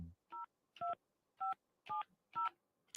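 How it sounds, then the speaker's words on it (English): A quick series of six telephone keypad tones, evenly spaced beeps dialing a number, clean and alone. "I love that you get that dial tone effect."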